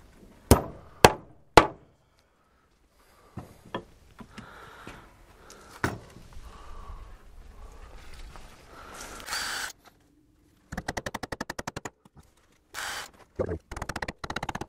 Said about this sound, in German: innen nageln wir einen an